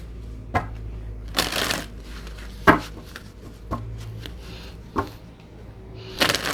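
Tarot cards are shuffled by hand in a quiet room, giving several separate riffling and slapping bursts at irregular intervals with soft rustling between them.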